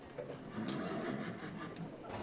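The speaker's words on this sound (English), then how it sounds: "residents rushed to move horses out of harm's way." Horses neighing as residents move them away from an approaching wildfire, a whinny rising out of outdoor commotion with shuffling hooves in the background.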